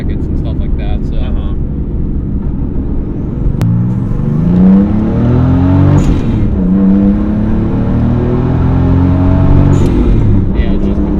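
A JDM 1993 Toyota Supra MKIV revs steadily and loudly throughout, bouncing against boost cut with a continuous droning, rising-and-falling engine note, while people talk over it.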